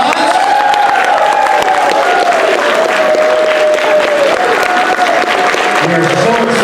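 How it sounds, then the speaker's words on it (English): Audience at a Niagara Falls comic convention applauds loudly and steadily as Caroll and Deb Spinney are welcomed on stage, with cheering mixed into the dense clapping throughout. "Give them a round of applause."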